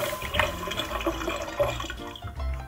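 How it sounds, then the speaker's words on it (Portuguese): Water pours into a glass in a home kitchen, with a steady trickling, splashing fill and a few small drips, heard close up and fairly quiet with no talking. "Eu vou pegar uma água pra você."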